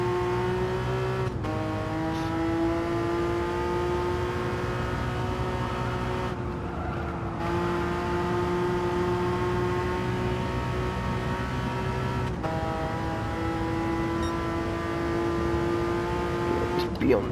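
A Porsche Cayman GT4 laps the Deep Forest circuit in a racing video game, its engine droning loudly and steadily with clear shifts and brief drops between gears, and tire noise at the corners.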